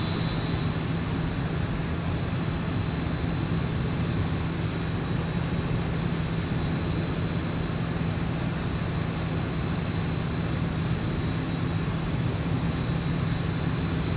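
A Boeing 737-800 approaching in the X-Plane 11 flight simulator, a steady loud jet engine drone with a constant hum and whine that holds unchanged throughout, with no voices.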